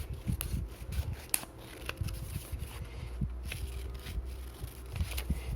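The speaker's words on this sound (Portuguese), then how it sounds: "Ó, eu corto a tagzinha." Scissors snip a small tag for a crocheted amigurumi sunflower keychain: a series of quick, close, crisp cuts and rustles over a steady low room hum, with no voice.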